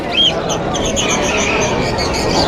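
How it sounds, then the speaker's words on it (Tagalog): Caged budgerigars offered for sale at a market stall chirp and tweet in a bright scatter of short calls over a busy, noisy outdoor background, moderately close. "Tignan natin yung mga paninda niyang ibon."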